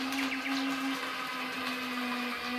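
A small no-name coffee grinder grinding sawdust whirs steadily at a high, constant pitch, buzzing loudly without pause for a few seconds.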